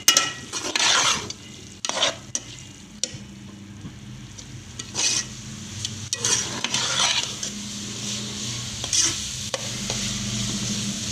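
Fried okra being stirred into a spicy Punjabi-style masala in a pan, with repeated scraping strokes of a spoon over a steady sizzle, close and fairly loud, no talking.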